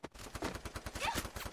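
Rapid gunfire bursts from the mobile shooter game Free Fire rattle in a quick, steady rhythm, loud and close, a short volley of repeated shots without talking.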